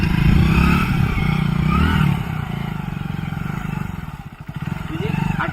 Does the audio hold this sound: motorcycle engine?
yes